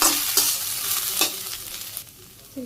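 Freshly washed and squeezed mola greens stir-fried in a pan with salt, turmeric and chilli, a close sizzle broken by several sharp spatula scrapes and clatters, fading quieter toward the end before a final stir, no talking.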